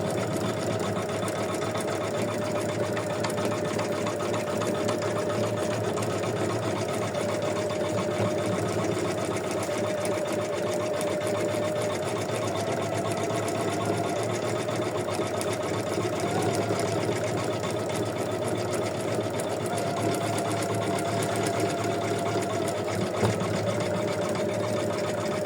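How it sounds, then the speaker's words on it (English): An embroidery machine sews a zigzag satin stitch around the tail of a mermaid in-the-hoop bookmark, a continuous fast mechanical whirr and needle chatter that runs evenly and close up for the whole stretch, with no voices. "let's stitch the zigzag stitches around our tail"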